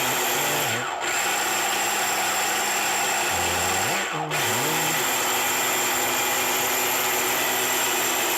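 A kitchen blender runs steadily, pureeing first-stage baby food into a smooth mush, with the motor pitch dipping briefly twice as the load shifts.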